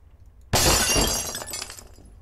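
Glass shatters suddenly in the horror game Nun Massacre, a loud bright crash bursting in after near silence, followed by a second or so of tinkling fragments fading out.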